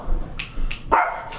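Several dog barks, a couple of short sharp yaps followed by a louder bark, fairly close, with quiet background between them.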